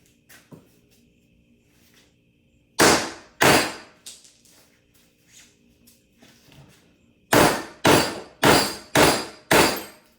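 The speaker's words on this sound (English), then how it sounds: "when you hammer it, and with enough force, it will shatter" A hammer strikes a piece of silicon until it shatters, sharp loud cracks in two early hits, then a rapid run of five hard blows, with quiet tapping and handling noises in between.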